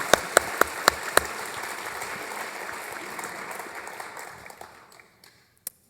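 Conference audience bursts into sustained applause, loud dense clapping with a few sharp close claps at the start, fading out over several seconds to near silence with one last clap.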